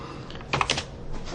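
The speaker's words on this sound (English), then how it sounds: "I'm not very good at typing stuff" Quick bursts of computer keyboard typing, close and clicky, with a denser flurry of keystrokes in the middle and lighter taps around it.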